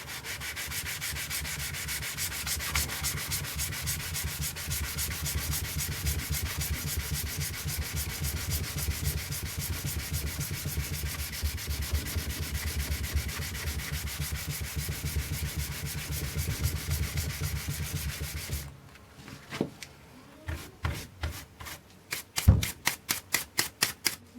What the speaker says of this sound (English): So we'll start with some 400 grit and see how we get on with that